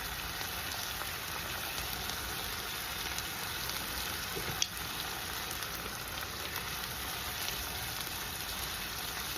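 Onions sautéing in a pan for a Mexican comfort-food dish give off a steady, even sizzle that holds for the whole stretch, with one tiny click partway through and no talking.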